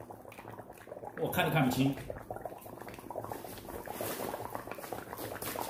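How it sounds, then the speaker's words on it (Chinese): Dry ice dropped into a bowl of freshly boiled instant noodles bubbles and churns with a loud burst of boiling and spattering, then settles to a steady fizzing under excited talk. "煮好泡面以后呢，把干冰放在里面"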